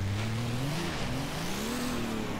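A Nissan Titan Warrior turbo diesel pickup revs in snow, its engine note droning and rising and falling in pitch as it works, loud and continuous.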